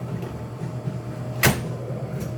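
A single solid thud of an oven door shutting on a steam-sprayed bread bake, close by, against a low steady hum.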